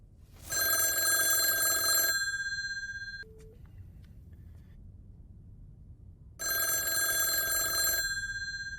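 Telephone rings in the 1997 film Lost Highway with two long loud bursts of bright metallic bell trilling separated by a quiet pause holding a brief faint tone, heard alone without talk.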